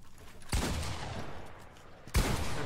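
Video game gunfire in an intense shooter match: two loud bursts of rapid shots, the first running long and rattling, the second starting sharply near the end, over quieter background.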